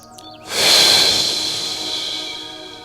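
A deep, long breath drawn in during a gentle morning stretching routine, a sudden airy rush that peaks quickly and then fades slowly as the lungs fill.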